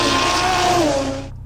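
A 340 kW Audi RS3 with a 2.5 litre five-cylinder turbo engine: a loud, close, sustained engine roar whose pitch slides downward as the revs drop, then quickly fades out.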